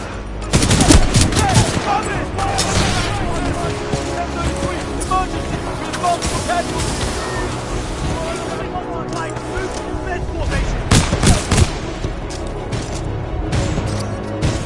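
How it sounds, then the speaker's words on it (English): Sustained supporting gunfire in the Titanfall 2 campaign, a loud, dense fusillade of rapid shots and bursts that rolls on continuously, with heavier blasts near the start and again around the middle, mixed with game voice chatter. "Commencing supporting fire."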